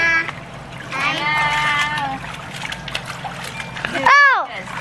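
Water splashes in a backyard swimming pool amid excited children's voices and shrieks, with people talking over the sloshing.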